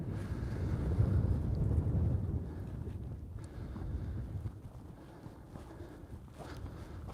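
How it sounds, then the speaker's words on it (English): Strong wind buffets the microphone on a lava-covered volcano hillside, a loud low rumbling roar that peaks early and then eases to a steadier gusting, with no talk. "is it really windy when I turn and sort of walk the other direction?"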